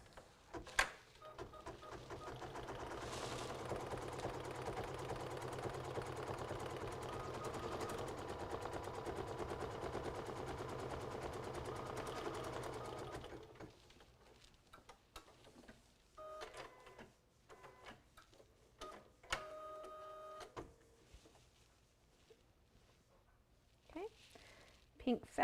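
An embroidery machine runs steadily for about 13 seconds, stitching a tack-down line to hold pink felt in place on a Kimberbell storybook pocket project, a dense mechanical whir that stops abruptly, leaving scattered clicks and handling noises.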